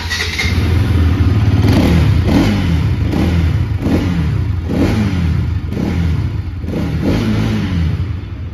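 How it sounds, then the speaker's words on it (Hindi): A 2024 Bajaj Pulsar NS 200 motorcycle engine idles and is revved repeatedly, loud, close exhaust note rising and falling in about seven quick blips over a steady idle. "तो एक बार मैं आपको इस बाइक का एग्जॉस्ट नोट सुना देता हूँ।"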